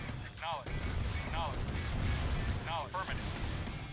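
Rocket soldiers firing rockets in Command and Conquer Red Alert Remastered, a dense run of booming launches and blasts over a constant battle rumble, with whistling rocket sweeps repeating several times.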